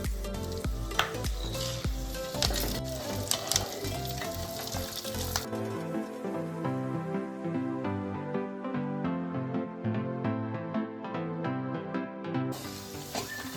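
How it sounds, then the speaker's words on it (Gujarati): Cashew pieces, almonds and seeds fry in a pan for a dried-fruit anjeer barfi, giving a continuous close sizzle mixed with background music. "આપણે કાજુના ટુકડાને લાઇટ જ બ્રાઉન કરવાના છે એટલે આપણે ઉમેરી દઈએ અને આ બધા સીડ્સ છે ને એને આપણે ઉમેરી દઈએ"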